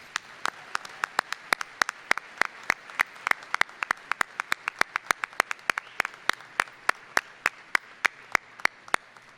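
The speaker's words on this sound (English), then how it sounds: "please join me in giving them both another round of applause." At a university winter commencement, sharp separate claps ring out in a steady, fairly quick rhythm over a quiet hall, sparse and crisp rather than a dense crowd roar.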